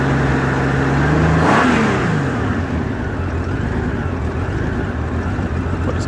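A 1989 Honda Goldwing GL1500 motorcycle engine with a rough idle and surging fault, close and loud, its revs rising and falling in a wavering drone before settling into a steady rumble.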